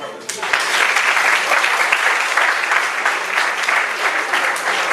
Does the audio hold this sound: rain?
no